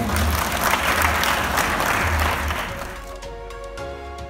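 A congregation applauds for God at a Sunday gathering, a dense, steady wash of many hands clapping at once that thins near the end as a low hum and tonal sound come through.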